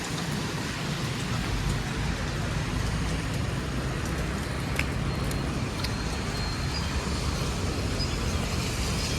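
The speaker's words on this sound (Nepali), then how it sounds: "अन्त बिहान बिहान पानी पऱ्यो" Rain falls steadily in the morning, a dense, even patter close by with no break, and faint knocks and splashes scattered through the hiss.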